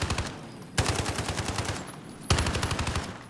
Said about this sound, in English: the AUG does shoot a little bit faster than the UMP